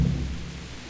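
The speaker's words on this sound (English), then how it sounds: "Oh my god, it's raining again." Steady rain with a low rumble of thunder in Kingdom Come: Deliverance, heavy and close, fading slightly over a second with no voices.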